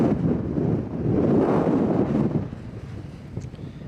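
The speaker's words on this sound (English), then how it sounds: "it's getting windy now" Gusty wind blows outdoors on the Pacific Crest Trail, buffeting the microphone in a loud rumbling surge that swells and then eases, with no one speaking.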